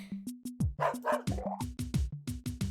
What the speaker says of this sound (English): Kenbo wails in a pain of a graphic realism level.